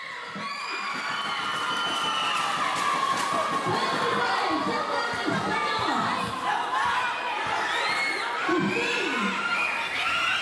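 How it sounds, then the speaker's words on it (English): A large basketball crowd in the Philippines roars and cheers continuously, with shouts and excited chatter rising and falling throughout, loud and close. "there is quite a passionate fan frenzy throughout the game, as heard by the loud roars from the crowd"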